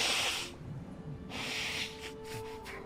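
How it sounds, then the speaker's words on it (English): A person blows their nose in two short, breathy, hissing bursts with a pause between, close to the microphone and fairly quiet, followed by a few fainter sniffs. "Let me blow my nose here."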